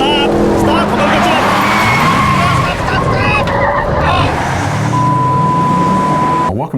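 Car driven by Jeff Gordon on an extreme taxi ride, roaring engine and squealing, skidding tires sustained loudly throughout, with a passenger shouting over the noise.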